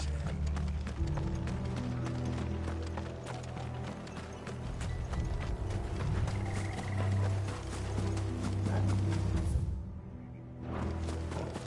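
Horses' hooves clip-clop in a steady, close rhythm with rattling carriage mechanisms, running for several seconds, briefly breaking off, then resuming.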